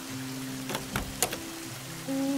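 Heavy rain falls outside as a steady, dense hiss with a few louder splashing bursts, heard close, with a low tonal hum underneath and no speech.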